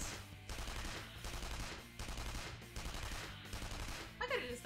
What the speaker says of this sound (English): Assault guns.